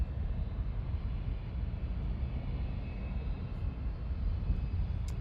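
Aircraft engine noise at Charlotte Douglas International Airport, a steady, fairly loud low rumble that holds throughout with no talk over it.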